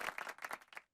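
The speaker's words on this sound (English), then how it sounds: "Let's give another round of applause to all the SETI Forward winners." A few last claps from an awards audience cheering SETI Forward winners, a handful of distinct sharp hand strikes close by that thin out and stop into silence.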